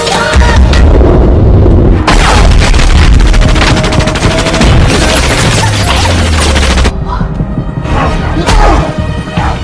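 An automatic gun fires after being dropped in a film scene: loud sustained bursts of rapid gunfire with heavy booms and thumps, nearly continuous and very close, breaking off near the end.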